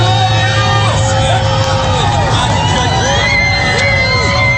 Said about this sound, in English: This is the crowd that's been outside the hospital where President Trump has been, and they are cheering and yelling and screaming